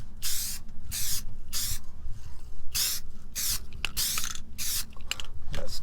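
Bursts of rattle-can spray paint hiss repeatedly inside the cab of a 1949 White wrecker truck, short and long sprays in an uneven rhythm, close up, with mechanical clicks and handling sounds between passes.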